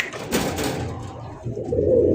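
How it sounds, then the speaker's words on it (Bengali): A pair of white Lahori pigeons coo close by, soft low calls rising and falling over a few seconds with some faint background noise and no talk. "হোয়াইট সাদা ধবধবা একজোড়া লাহোরি কবুতর"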